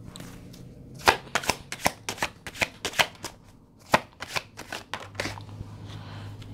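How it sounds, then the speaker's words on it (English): Tarot cards being shuffled in a quiet room, a rapid run of crisp riffling slaps and flutters repeating in bursts, close and fairly soft with a faint steady hum beneath. "Let's pull some cards on the Two of Cups and the Ace of Wands."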